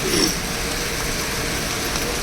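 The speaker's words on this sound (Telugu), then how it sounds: "చూడండి వర్షం ఎట్లా పడుతుంది చూడండి, ఫుల్గా పడుతుందండి వర్షం" Heavy rain pouring down outdoors onto a road and drain channel, a steady dense broadband wash that stays loud and even throughout with no voices.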